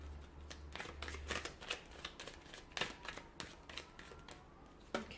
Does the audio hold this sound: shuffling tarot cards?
yes